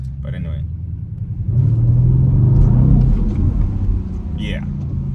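Audi RS6 Performance 4-liter V8 idling in neutral then revved, a deep steady rumble swelling mid-clip and settling back, heard from inside the cabin with a person talking over it.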